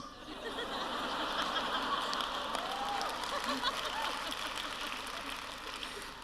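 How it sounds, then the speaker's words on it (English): An audience at a storytelling event at a convention in Sydney gives a soft, steady wash of applause mixed with chuckles and murmurs, heard at moderate distance and fairly even throughout. "I got a round of applause too."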